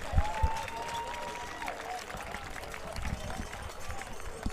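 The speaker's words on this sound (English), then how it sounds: "Give him a round of applause." Crowd at a high school football game applauds an injured player walking off the field, scattered clapping and cheering from the stands heard at a distance, mixed with field noise and a few sharp knocks.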